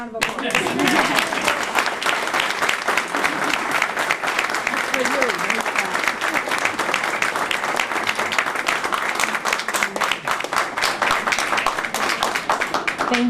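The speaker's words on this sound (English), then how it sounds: "Now another round of applause." Audience applause at a music room dedication ceremony, dense and steady clapping sustained throughout, with some voices mixed in beneath the clapping near the start.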